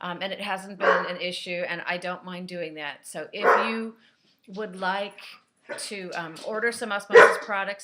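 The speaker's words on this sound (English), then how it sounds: "that's my dog" A pet dog barks repeatedly nearby indoors, sharp yips and barks mixed in with someone talking over them, with brief pauses between bursts.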